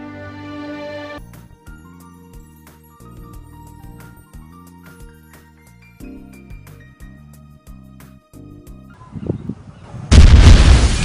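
Musical notes play for several seconds, then a deep rumbling burst and a loud, roaring explosion blast close out the clip.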